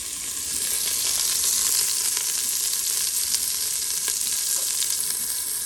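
Beef browns on the saute setting of a pressure cooker with a loud, steady, dense sizzle that holds unbroken throughout and has no talking over it.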